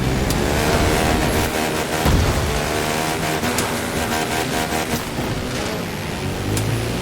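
Engine of a Kawasaki KX450 motocross bike in The Crew 2 racing game, a loud continuous roar with revving and gear-change surges throughout, plus occasional sharp transient knocks.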